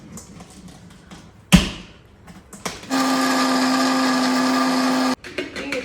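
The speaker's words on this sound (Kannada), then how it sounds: "ತುಂಬ ಚೆನ್ನಾಗಿದೆ ಇದು ಮಿಕ್ಸರ್ ಗ್ರೈಂಡರ್." A mixer grinder grinds cashews and pistachios. A sharp thud comes first, then the motor whirs loudly and steadily for about two seconds before cutting off.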